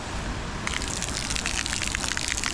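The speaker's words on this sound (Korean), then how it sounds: "여기에 이게 샤워기인가 봐요." Shower water gushing steadily at Széchenyi thermal bath in Budapest, a broad continuous hiss of spray running close by without pause.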